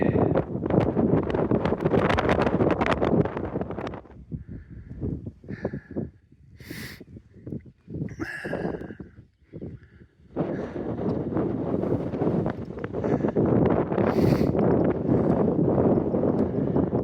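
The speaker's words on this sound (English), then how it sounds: "It's quite windy." Strong wind on open moorland buffets the microphone in heavy, roaring gusts, easing briefly in the middle before blowing hard again.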